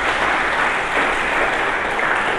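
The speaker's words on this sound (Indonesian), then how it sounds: "Mari kita berikan tepuk tangan bagi Yesus Kristus." A church congregation at an Indonesian sermon service bursts into loud, dense applause. The clapping is continuous and close, filling the whole moment with no talk over it.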